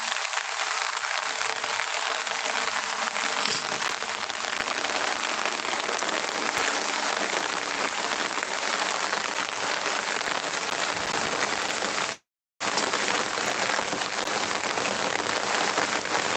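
Heavy rain pours steadily onto surfaces as a dense, continuous hiss, loud and close, with a brief dropout near the end and no voices.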